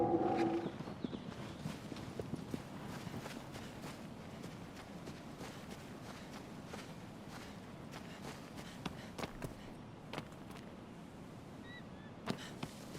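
A horse's hooves clop steadily in Shadow of the Colossus, a faint, rapid rhythmic patter of galloping footfalls running continuously over a soft ambient hush, with a few sharper knocks near the end.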